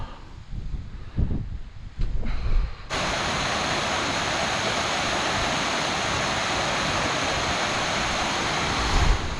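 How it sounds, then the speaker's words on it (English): Waterfall on Kinder Scout in cloudy moorland, a steady broadband rush of falling water that starts abruptly after a few seconds of quieter outdoor sound and then holds constant, close and loud. "hidden waterfall thing."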